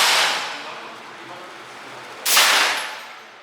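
A suppressed Beretta 92FS pistol fires subsonic 140 grain rounds: two sharp, muffled cracks, each trailing off in a brief echoing hiss, spaced a couple of seconds apart outdoors.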